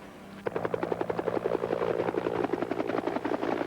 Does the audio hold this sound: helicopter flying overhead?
yes